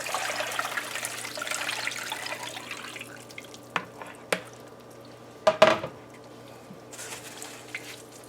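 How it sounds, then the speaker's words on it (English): Coconut milk strained and poured into a pot of ground provisions for metemgee, a Guyanese stew, giving a steady watery pour for about three seconds, then scattered splashes and drips, fairly quiet with no talk. "we're going to strain our coconut milk into that"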